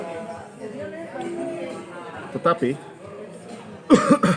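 Two short coughs break through soft background chatter, one midway and a louder, harsher pair near the end.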